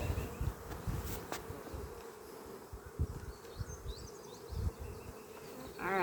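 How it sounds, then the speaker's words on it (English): A dense swarm of honeybees buzzes steadily and close while being shaken out of a nuc box, with low bumps and knocks from the box underneath the hum. "There's still a bunch of bees in there."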